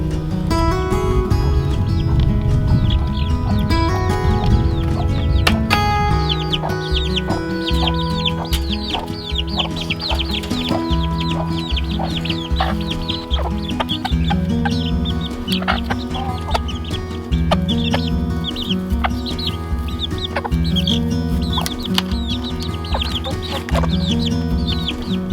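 Baby chicks on a homestead get fresh grass clippings as a first treat, filling the space with continuous loud, overlapping high peeping and clucking, close and dense throughout with no talking.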